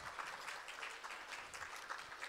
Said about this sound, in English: Please a round of applause for our dancers and also for our singers.